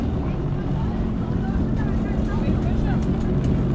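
Jet ski engine idling and running steadily at close range, a continuous low rumble with wind and water noise throughout, while people talk over it.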